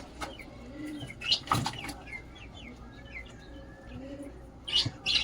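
Soft, low coos of a male and female pigeon pair come and go, mixed with a few brief chirps and small rustling knocks close by.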